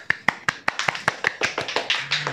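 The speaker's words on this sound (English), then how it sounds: "Let's give them a round of applause" An audience at a talk claps in an evenly spaced, crisp rhythm, about a dozen distinct sharp claps in a row, fairly near and otherwise quiet.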